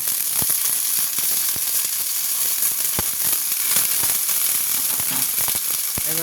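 Carrots and beans sizzle and fry loudly in a pan for vegetable chowmein, a dense continuous hiss broken by sharp pops and crackles throughout.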